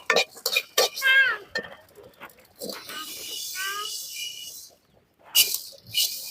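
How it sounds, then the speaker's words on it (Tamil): Cumin seeds and fenugreek dry-roast in a pan in a kitchen making mint powder, with faint crackles and metallic clinks of stirring beneath someone talking throughout. "நல்லா செவக்க வறுத்துக்கணும்"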